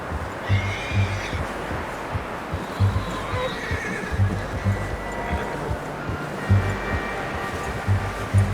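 A horse whinnies repeatedly in a Red Dead Redemption 2 camp scene, the neighs rising over rhythmic clip-clopping hooves and a low ambient bed, with someone talking intermittently in the background.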